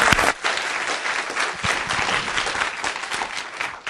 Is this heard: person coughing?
no